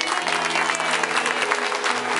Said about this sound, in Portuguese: Dá uma salva de palmas à família maravilhosa